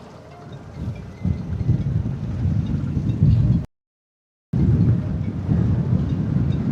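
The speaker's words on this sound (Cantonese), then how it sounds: "啲風啊，啲風巢晒個水面。 啊，有風啊！" Wind blows across open water at a fishing spot, a rough low rumbling gust noise that swells and stays steady, broken by a brief total silence before returning.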